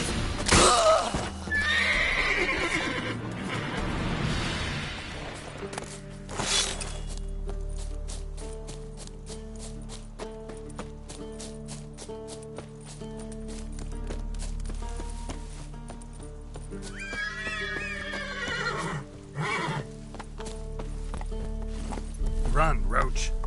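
The horse Roach in The Witcher 3 gallops with rapid clip-clop hoofbeats and whinnies loudly near the start and again later, heard over game music and voices talking.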